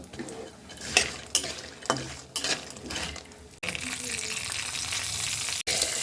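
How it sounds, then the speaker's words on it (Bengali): Pumpkin bori (lentil dumplings) and duck egg fry in hot oil, a steady hiss of sizzling broken by sharp scrapes and clinks of a spatula against the pan. "এই যে হালকা কুমড়ো বড়িটা ভেজে নেবো এই তেলের ভিতরে আমি একটু ডিমটাও ভেজে নেব"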